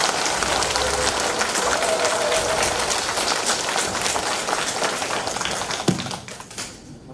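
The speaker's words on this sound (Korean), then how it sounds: "고생하신 우리 후보님께 뜨거운 박수 한번 쳐주십시오." An audience at a Gangjin county head candidates' debate for Korea's local elections claps for the candidates, a dense patter of many hands that runs steadily, then thins and fades out near the end, with a brief thump partway through.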